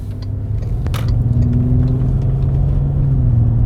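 A Bentley Continental GT cruises on the road, its engine a steady deep rumble that swells slightly as it accelerates, heard from inside the car, loud and continuous.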